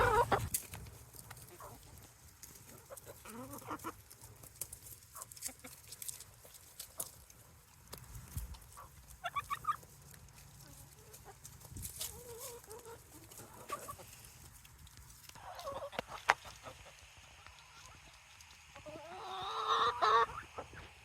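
A flock of chickens eating superworms clucks continuously and chaotically through a busy, scratchy background, with occasional louder calls standing out near the end.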